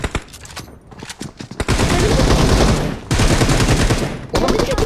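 Gunfire from the battle royale game PUBG, with bursts of loud, dense automatic shots filling the clip after a brief scattered opening, pausing briefly near the three-second mark before continuing.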